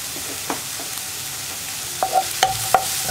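Sliced onions with turmeric being stirred in a pan for vendakka poriyal, with a soft, low sizzle and a few sharp spatula scrapes and taps toward the end, close and quiet.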